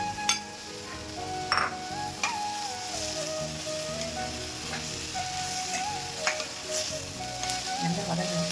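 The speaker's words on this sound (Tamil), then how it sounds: "எல்லா வெஜிடபிளும் நல்லா வதங்குற மாதிரி நல்லா கிண்டி விடணும்." Capsicum and mixed vegetables sautéing in a pan for a homemade sandwich filling: continuous soft sizzle with occasional clicks and scrapes as they are stirred, close by, with no talk.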